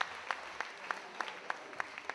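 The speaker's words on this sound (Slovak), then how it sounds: "Veľký potlesk za to" Evenly spaced, distinct claps ringing out at a student ball, faint and regular like a slow rhythmic clap from a few people, with no talk.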